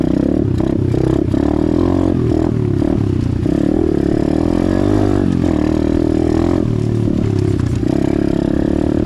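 An Apollo DBX15 Chinese pit bike being ridden, its small engine droning loud and close with rising and falling revs, rattles and scrapes mixed in throughout.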